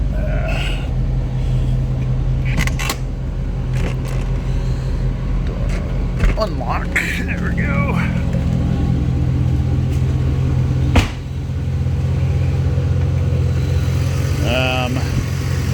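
A 2000 turbo Corvette engine runs in a garage with a deep, steady idle and rumble, heard close and continuous. A few short remarks are spoken over it, and some clicks and small bumps come through partway.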